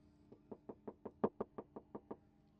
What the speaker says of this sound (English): So I'm going to knock on this door